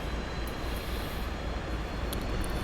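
F/A-18C jet engine idling on the ground in the DCS World flight simulator, a steady broadband turbine roar with a faint high whine, constant and close, with no talk.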